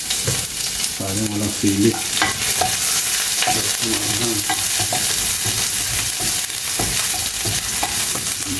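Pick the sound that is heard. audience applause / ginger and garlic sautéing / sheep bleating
ginger and garlic sautéing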